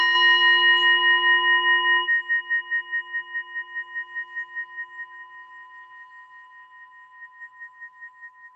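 A single bell struck once during a tai chi class rings out clear and close, its pure tone lingering and slowly fading with a gentle pulsing shimmer over several seconds.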